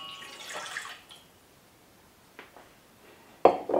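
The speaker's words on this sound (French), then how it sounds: "Voilà, le reste d'eau, je le verse dans le bol à pétrir." Water pouring into a kneading bowl for pizza dough, a soft trickle and splash at the start, then quiet, with a few small drips and a louder splash near the end.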